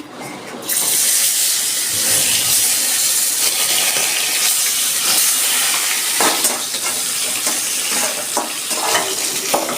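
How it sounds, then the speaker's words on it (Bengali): Fish frying in hot mustard oil, a steady loud crackling sizzle that starts abruptly and continues throughout with brief spattering bursts, no voices. "তেল গরম হয়ে গেছে আমি মাছ দিয়ে দিচ্ছি"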